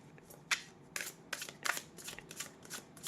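Tarot cards are shuffled by hand in a series of quick, crisp riffling bursts and soft slaps, close and fairly quiet, with short pauses between them.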